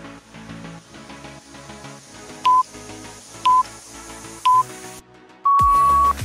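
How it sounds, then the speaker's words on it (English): Three short electronic beeps sound at even intervals over background music, followed by one longer, sustained beep. "When you hear the beep in about 10 seconds"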